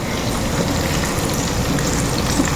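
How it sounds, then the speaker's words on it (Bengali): Eggplant fries in hot oil on a stove, a loud, dense, continuous crackling sizzle heard close up with no talking. "আমার বেগুন ভাজা হয়ে গেছে এখন"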